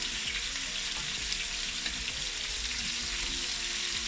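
Chopped onions for rougail saucisse fry in a hot pan, giving a steady, dense sizzle that runs unbroken and close throughout, with faint scrapes of stirring mixed in and no voices.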